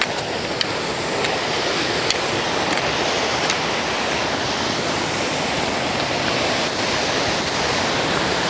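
A waterfall on a Scottish mountain pours in a steady, full broadband rush, loud and continuous with no pause, close by and heard alone without voices.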